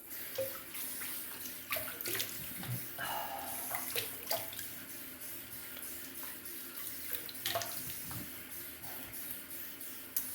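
Cold tap water runs steadily in a sink while hands splash and scoop it to rinse a face after shaving, with scattered drips and wet slaps close by.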